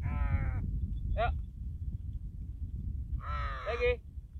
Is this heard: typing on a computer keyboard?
no